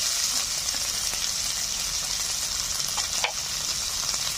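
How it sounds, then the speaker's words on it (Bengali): Onions frying in oil with tomato and slit green chili, a dense continuous sizzle with occasional stirring scrapes and one brief clank, close and steady with no talking. "পেঁয়াজগুলো হালকা লালচে করে ভেজে নেওয়ার পর দিয়ে দিচ্ছি টমেটো, কাঁচা লঙ্কা চেরা"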